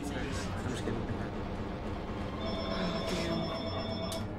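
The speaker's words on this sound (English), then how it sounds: "Just the phone." A house telephone ringing in a room, a couple of bright electronic ring tones sounding over a busy background of game sounds and noise, with a voice speaking nearby.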